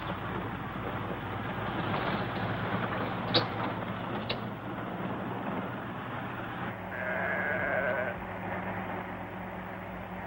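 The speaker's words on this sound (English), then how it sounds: "No, the sheep." Sheep bleat over a steady rumbling background, a long drawn-out bleat standing out near the end, with a couple of sharp clicks earlier.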